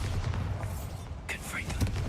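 Bombarda blasting spell cast in Hogwarts Legacy, a short burst of magical impact with a thump and crackling blast midway through, heard over a steady low rumble of background ambience.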